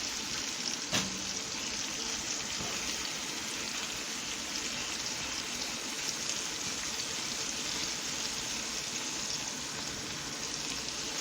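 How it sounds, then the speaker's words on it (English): Sliced tomatoes with onions cooking lightly in a pan give a steady, dense sizzle throughout, close and loud, with one brief clink near the start and no voices. "I threw in my tomatoes. I sliced them up. And they're going to lightly cook with my onions."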